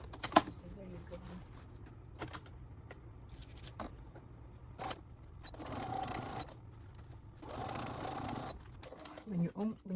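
A sewing machine stitches a patio chair cushion with cording, its rapid mechanical chatter coming in steady bursts close by, with scattered clicks and a person talking quietly in between.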